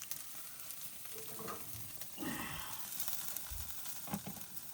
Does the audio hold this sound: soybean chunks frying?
yes